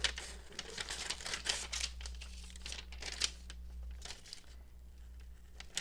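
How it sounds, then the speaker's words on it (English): Scissors cutting printed vellum paper, with crisp crinkling snips and rustles in irregular bursts over a low steady hum. "I printed it on vellum. I'm going to cut it out."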